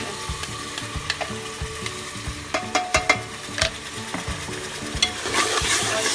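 An onion, ginger and garlic paste fries in hot oil with a bay leaf for chicken biryani, a steady soft sizzle broken by sharp spatula scrapes and clinks against the pan, close and alone.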